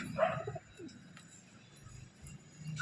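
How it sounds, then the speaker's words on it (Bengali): Soft cooing from a pair of female teddy pigeons, with low murmuring coos at the start and again at the end, fairly faint against quiet room noise. "প্রথমেই দুটো টেডি পায়রা দেখাচ্ছি আপনাদের"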